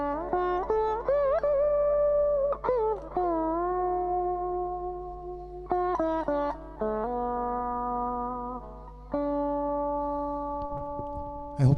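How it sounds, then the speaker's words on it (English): An electric guitar with a clean, undistorted tone plays a sustained, bending melodic line with sliding notes and ringing sustain, loud and close, alone without voices. "So this is a clean tone to start with."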